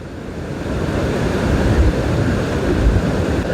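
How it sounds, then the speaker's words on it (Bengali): Jonha Falls near Ranchi in monsoon flood sends out a steady, loud roar of rushing water with wind buffeting the microphone, and no one speaks. "আমরা এখন দাঁড়িয়ে আছি রাঁচির জোনা ফলসের সামনে।"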